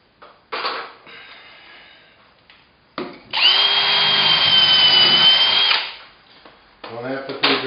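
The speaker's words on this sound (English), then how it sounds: "it's just to get it enough so that I can drill the other hole out" A power drill whines steadily for a few seconds while drilling a hole in a ceiling to mount bike-hanging hooks, bracketed by brief bursts of handling noise and a short talking voice near the end.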